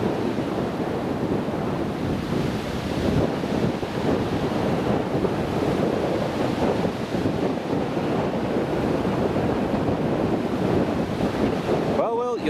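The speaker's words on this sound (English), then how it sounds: "Wind's strong." Strong wind buffeting an outdoor microphone at an airport planespotting spot, a steady loud broadband roar that never lets up, with a brief sharp rustle near the end.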